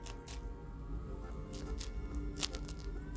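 Several crisp crunches from biting into a meatball sandwich, close and fairly quiet, with sharp bursts spaced irregularly over a low background.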